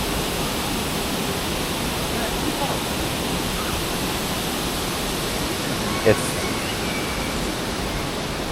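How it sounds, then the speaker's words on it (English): Steady broadband rush of falling water from an indoor water feature at Hamad International Airport in Doha fills the space continuously, with a single brief knock partway through. "It's so nice just to stand here, listen to that water falling."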